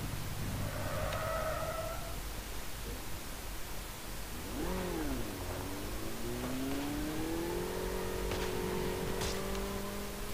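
A motorbike rides in the mobile shooter Call of Duty Mobile. Its engine drones and revs, rising and falling in pitch with gear changes over a wash of wind-like noise, with no voices.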